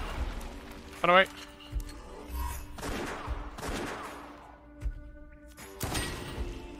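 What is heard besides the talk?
gunfire in the video game West of Dead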